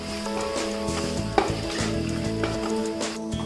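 Ginger garlic paste and turmeric sizzle steadily in a pan for mutton curry, a loud close frying hiss with occasional stirring scrapes and a low background hum, no talk.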